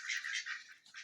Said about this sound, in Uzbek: o'rdagimiz bir o'zi qolib ketibdi, g'aqillab sheriklarini chaqiryapti